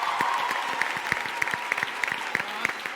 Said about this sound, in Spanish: fuerte Sí. aplauso para Nate